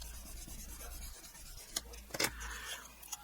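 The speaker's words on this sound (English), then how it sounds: "and give it a good burnish." A paper card joint on a double pop-up card is burnished, making faint, close rubbing and scraping strokes with a few brief louder scuffs.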